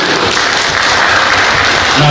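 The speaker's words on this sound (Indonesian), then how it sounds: "Tepuk tangan dulu." Audience applause at an association's installation ceremony and address, dense, loud clapping from a gathered crowd that runs steadily for about two seconds, with a faint voice near the end.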